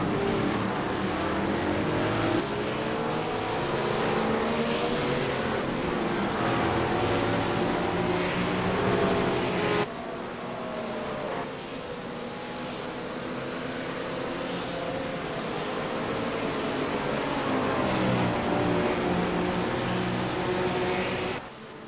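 Race car engines in a sim racing video game during a 24-hour endurance race at Spa-Francorchamps, a loud continuous drone of several cars with rising and falling revs, a short dip near the middle, then a steady roar again.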